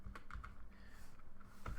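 Quick, close typing on a computer keyboard while programming, a rapid patter of light key clicks with no voices over it.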